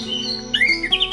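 An orange-headed thrush, a competition songbird, gives a loud, close whistling squawk with rising, warbling notes over a steady tonal background hum.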